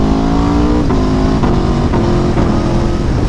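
A 2017 Aprilia Tuono V4 1100 RR motorcycle engine runs loud and close, a throbbing V4 drone with quick shifts and blipped revs as it rides, steady throughout.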